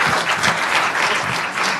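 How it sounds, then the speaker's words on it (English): An audience at a CF Foundation storytelling workshop breaks into a burst of loud, dense applause, steady clapping throughout with no talk. "Let's give Fran a big round of applause."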